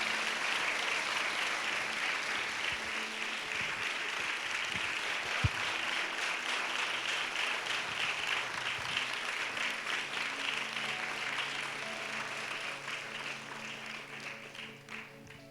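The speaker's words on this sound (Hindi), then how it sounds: "परमेश्वर के लिए एक बार जोर से ताली बजा के प्रभु को धन्यवाद देंगे।" A church congregation at a fasting prayer session claps loudly for about fifteen seconds, a dense sustained roar of applause that slowly tapers off toward the end.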